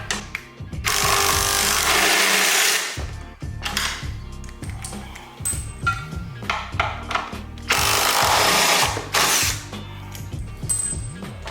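A power tool works loose 16 mm bolts on a Dodge Charger, Challenger, 300 or Magnum during an air bag suspension install, with two long loud whirring bursts between choppy, rattling, stop-start runs, close and without talk.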